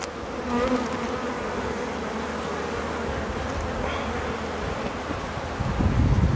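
Honeybees buzz in a steady, dense drone during a spring hive inspection, a close, continuous hum that swells slightly louder toward the end.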